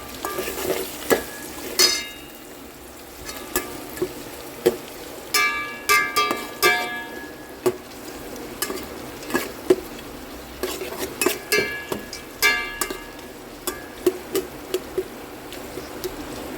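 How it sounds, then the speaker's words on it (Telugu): Onions fry in a pan for spicy tomato fried rice, a low sizzle under repeated sharp clinks and scrapes of a spoon against metal, irregular and close, with no speech. "ఆనియన్స్ బాగా ఫ్రై అవ్వనివ్వాలి."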